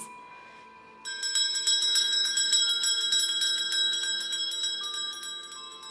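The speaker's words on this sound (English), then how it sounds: "The bell invites me." A bright bell rings out in a stage production of Macbeth, starting after a second of quiet, its sustained shimmering tones swelling and slowly decaying, loud and alone without speech.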